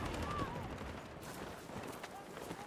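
Rapid gunfire bursts in the video game Battlefield 6, continuous automatic shots layered with battle noise, steady and fairly loud throughout.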